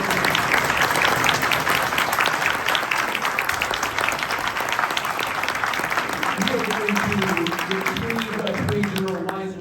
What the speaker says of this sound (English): Everybody get another round of applause for